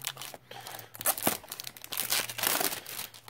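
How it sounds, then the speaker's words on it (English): Plastic wrap is peeled off a boxed Tommy Bahama Set Sail Martinique set, giving close, irregular crinkling and crackling bursts at a soft level. "So just unwrap the old plastic wrap."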